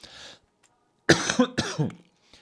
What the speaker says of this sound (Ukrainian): Не дякуйте за кашель